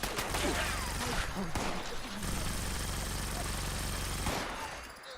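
A .50 cal machine gun fires in Fallout 76, long sustained bursts of rapid heavy automatic shots with a brief pause in the middle, loud and close.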